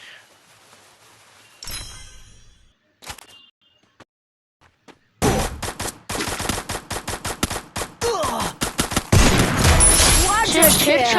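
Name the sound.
gunfire in Free Fire video game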